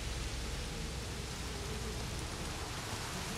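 Rain falls steadily in the Jurassic World Evolution video game, a broad constant hiss of rainfall with no distinct drops or breaks, faint and even throughout.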